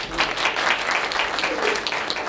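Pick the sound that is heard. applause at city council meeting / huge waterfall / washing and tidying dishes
applause at city council meeting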